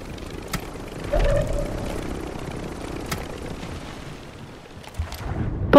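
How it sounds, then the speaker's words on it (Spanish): A helicopter spins up in the Rebirth Island video game, its engine whine rising and holding over a broad rotor rumble, then settling as a steady drone at moderate loudness. "Han arrancado el helicóptero, pero siguen aquí"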